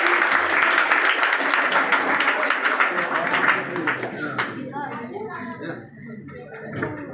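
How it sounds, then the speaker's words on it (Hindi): An audience claps steadily at a student award ceremony honouring matriculation students, sustained applause that fades out while voices and children's chatter continue underneath. "जोरदार ताली बजा दीजिए।"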